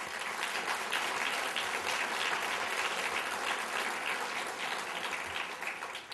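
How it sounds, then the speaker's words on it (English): Steady, full applause from a seated audience at a university leaders' luncheon, continuous clapping of even loudness from start to finish with no talk over it. "So let's give Tony a big applause."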